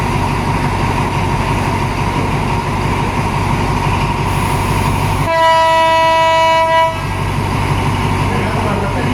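Ordinary passenger train 260 from Nam Tok to Thonburi at Salaya station, with a loud continuous rumble of railcars and a long sustained horn blast partway through, recorded close by.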